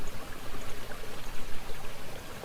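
A stream flows steadily near Kompot, a continuous broadband rush and trickle of water heard close by with no voices.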